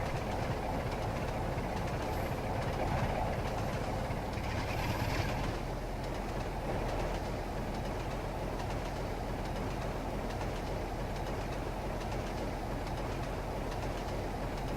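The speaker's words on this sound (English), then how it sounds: "Here comes a train. Short little commuter passenger train." A short commuter passenger train passes in Train Simulator 2012, a steady rumbling roll with faint clickety-clack that holds at an even level throughout, with no voices over it.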